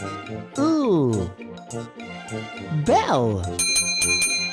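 A bright bell, like a bicycle bell, rings near the end with a clear metallic jingle, following a speaking voice.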